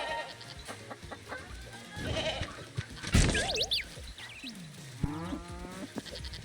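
A goat bleating in the video game Moving Out 2, a few short wavering cries mixed in with a sharp whoosh and clattering game effects over steady background music.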